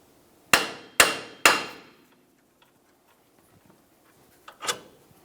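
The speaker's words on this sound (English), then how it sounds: "we'll continue with a hammer. Give this a couple taps" Three sharp, evenly spaced hammer strikes ring out on the outer tie rod end of a 2002-2009 Chevrolet Trailblazer's steering linkage, each decaying quickly, followed by a softer fourth tap after a pause.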